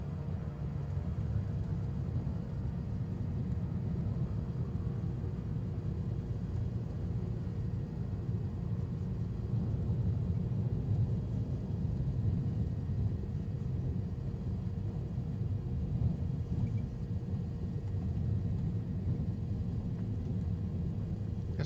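Steady low rumble of an airplane taxiing on the ground in Microsoft Flight Simulator, a continuous engine drone that holds even and moderately loud throughout with no talk over it.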